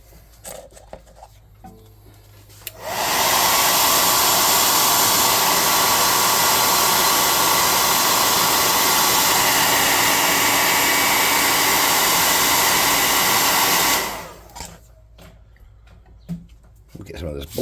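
Near and loud, a hair dryer runs in a steady whoosh for about eleven seconds to dry paint on a miniature zombie figure, then switches off. Quiet room sounds come before and after it.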